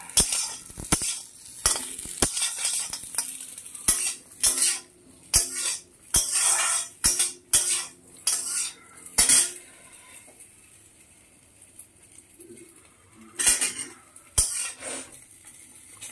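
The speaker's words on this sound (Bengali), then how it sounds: "পকোড়াটা এখন কড়াইতে একটু নাড়বো" A utensil stirs pakoras in a kadai, with repeated scraping and clinking strokes in an uneven rhythm and a faint sizzle underneath, no voices.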